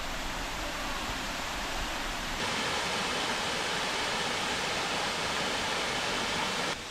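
The first tier of a waterfall in Huai Yang Waterfall National Park gives a steady, dense rush of falling water, loud and continuous, rising slightly partway through, with no voices.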